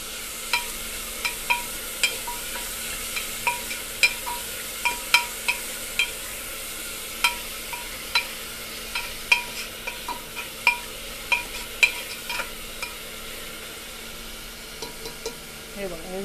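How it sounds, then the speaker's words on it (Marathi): Dal with coriander being stirred in a pan, a spoon scraping and tapping in a steady series of sharp strokes over a soft background sizzle, close and clear. "असं एकत्र मिक्स करून घेते"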